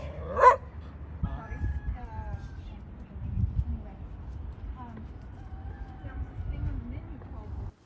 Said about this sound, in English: Oh, here's another pooch over here. And another pooch.